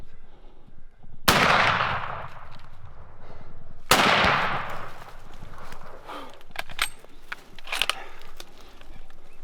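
Two loud rifle shots crack out on a big game hunt in Africa, a couple of seconds apart, each booming and echoing across open country, followed by quieter rustling and faint movement.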